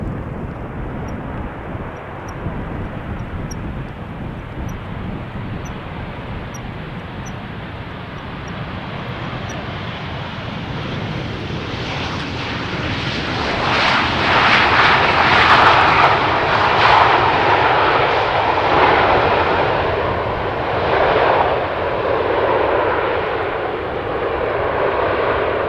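A KLM Boeing 777 passing overhead while landing on runway 18R at Amsterdam Schiphol Airport on a windy day, a loud jet roar that builds steadily, peaks mid-pass and slowly fades, with wind buffeting throughout.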